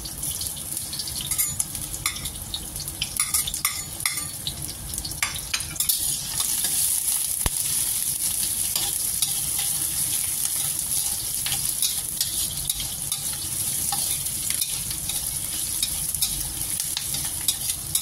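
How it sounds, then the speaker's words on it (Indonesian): Steady sizzling of shallots, garlic and galangal frying in a hot pan, with scraping and stirring sounds throughout and occasional clinks, no voices. "kita goreng atau kita oseng sampai harum ya."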